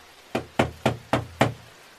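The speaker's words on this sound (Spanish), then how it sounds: "Al llegar dio unos golpes en la puerta" A hand knocks on a house door where a woman lives, in a spoken crime story: five evenly spaced, fairly close raps that stand alone, with no talk.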